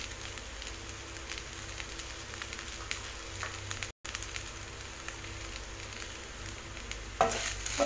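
Okra frying in a pan with cumin powder and salt, a continuous close sizzle with faint stirring scrapes, ending in a louder burst of crackling near the end, no talk.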